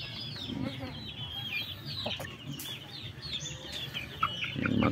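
Japanese Shamo chickens at a breeding pen in Tabango, Leyte, cluck and murmur at moderate distance over a noisy outdoor background, with occasional sharper calls.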